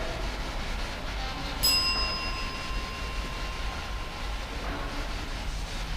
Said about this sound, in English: I rang the bell and asked if it could do the same thing.